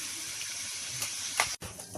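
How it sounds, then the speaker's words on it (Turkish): Kokoreç fries in a hot pan at home, giving off a continuous hissing sizzle with a few louder spitting bursts and a brief dip near the end. "Bunları da iyice kızartıyorum"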